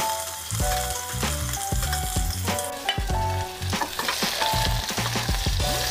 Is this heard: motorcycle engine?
no